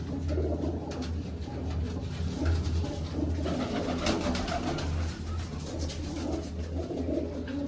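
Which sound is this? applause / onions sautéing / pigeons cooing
pigeons cooing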